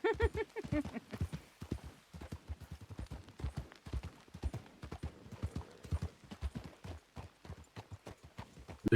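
Horse hooves clip-clopping at a steady walking rhythm in a Western video game, many close, crisp strikes running continuously, with a little talk at the start and end.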